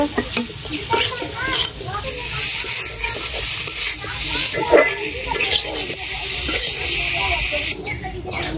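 Potatoes sizzle in hot oil and fried spice paste in a pan for a fish curry while being stirred, with a loud continuous hiss and scraping stir strokes close up.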